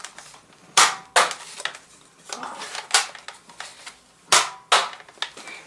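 A Nerf Zombie Strike Crossfire Bow fires foam darts, giving several sharp, close snapping clacks spaced a second or so apart, with handling clicks and rustles between shots.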